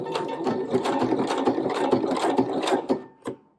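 A sewing machine stitches a fabric pouch with a steady, close, rapid mechanical whirring. It slows and stops in two short final bursts.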